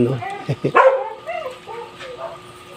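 A dog barks in short sharp bursts near the start, with a Filipino speaker talking over and after the barks indoors near a fish-keeping setup.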